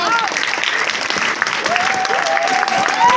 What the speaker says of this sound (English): Please, may you clap for her?